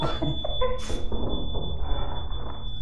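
After a flashbang goes off in a co-op video game, a steady high-pitched ear-ringing tone holds throughout, while brief voices and muffled game sounds rise and fade beneath it.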